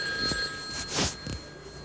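A telephone bell rings in short bursts, a bright trilling ring repeated a few times at moderate volume against a steady faint hum, with no talking.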